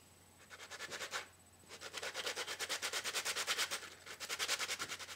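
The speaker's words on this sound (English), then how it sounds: "Alright, I've been sanding forever." A ukulele part is sanded by hand with quick, rhythmic back-and-forth strokes. The rasping rubs come close and clear in a steady pulse, with a short pause after the first few strokes.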